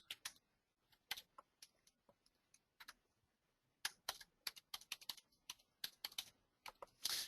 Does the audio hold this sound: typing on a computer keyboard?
yes